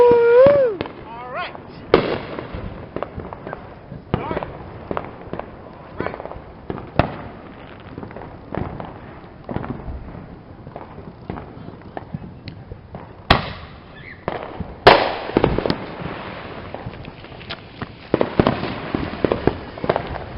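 An Air Cavalry consumer firework goes off at a Fourth of July backyard show, a series of sharp crackling bursts and pops firing in irregular succession, with a few louder reports near the end and some voices in between.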